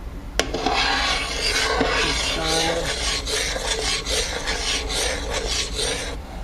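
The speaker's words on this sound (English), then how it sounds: "I'm going to let that go a little bit and keep stirring it." Steady scraping and rubbing as a spoon stirs hot black raspberry jam in a pot, a continuous close rasping texture with no talking.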